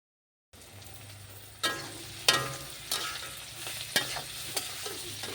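Chopped onion and garlic hit a pan of hot soybean oil after a brief silence, then fry in a close, steady sizzle marked by repeated stirring scrapes.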